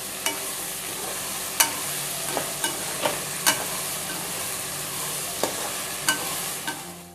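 Moong dal khichdi ingredients sizzle in a pan as salt is mixed in, a steady frying hiss broken by regular light scrapes and taps of a spoon stirring.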